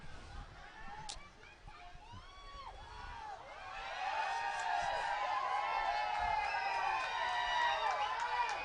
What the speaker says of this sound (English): Crowd enjoying themselves